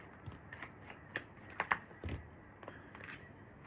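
Tarot cards handled and drawn from a deck, a series of soft close flicks and slides with a few sharper card snaps, spaced irregularly over faint room noise.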